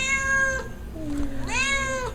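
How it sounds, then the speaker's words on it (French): A cat meows twice in a recording played from the internet, two clear, tonal meows separated by a short gap, heard close and fairly loud over a faint background. "Recherche YouTube, miaulement chat."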